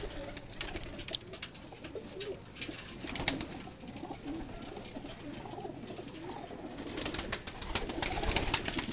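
Pigeons in a loft, with several birds cooing in overlapping low, throaty calls and some rustling, a continuous close chorus with no talking.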